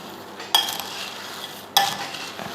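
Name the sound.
stirring and mixing almond crunchy mixture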